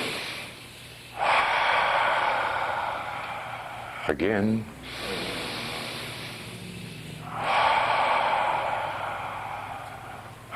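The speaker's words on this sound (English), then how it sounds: "Breathing in." Deep breaths during a guided meditation exercise: two long, audible inhalations through the nose separated by a brief sharp sniff, with a voice briefly speaking in between.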